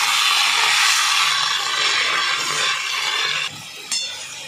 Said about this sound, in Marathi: मेथीला तेलामध्ये छान अशी परतवून घ्यायची आहे 2 मिनटं।